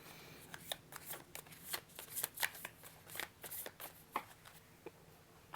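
Tarot cards are shuffled and drawn by hand: a quick run of sharp, close papery riffles and flicks in an irregular rhythm, then a few single slaps as cards come out, with no talking.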